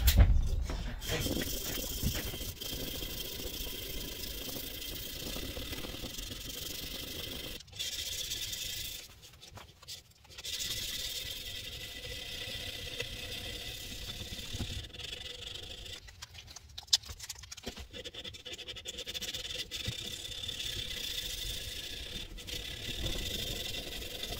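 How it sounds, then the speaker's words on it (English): Hand sanding a steel kitchen knife made from a ball bearing, a continuous close rasping rub with repeated back-and-forth strokes and a few short pauses. "I'm glad I'm hand sanding"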